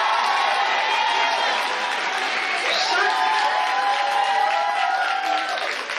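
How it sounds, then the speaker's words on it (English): Keynote audience at a Haitian Ladies Weekend gathering applauds and cheers, a steady dense roar of clapping with whoops and shouts rising above it, loud and sustained throughout. "please give Yamish a round of applause"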